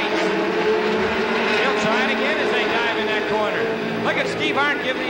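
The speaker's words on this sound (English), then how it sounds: "again a big slide by this 57 car, Pete Seitz" Dirt track late model race cars at Capital Speedway in 1985 roar through a corner in a big slide, engines loud and continuous, while an announcer calls the race over them.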